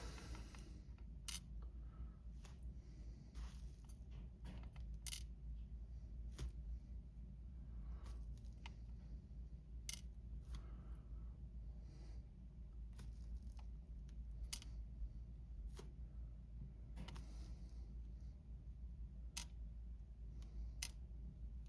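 Tiny brass key pins from a disassembled Abus 72/40 padlock core tumble out in a series of sharp, faint metallic ticks and clicks, scattered irregularly over a quiet low hum.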